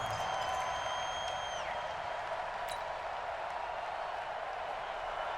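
A stadium crowd in the Madden NFL 20 football video game sends up a steady, dense roar that holds at an even level throughout, with no clear breaks.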